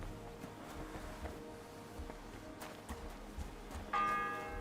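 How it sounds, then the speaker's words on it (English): A church bell in the medieval game Kingdom Come strikes once near the end, a loud clear ringing tone that lingers over a busy low background of game ambience. "The 7th bell."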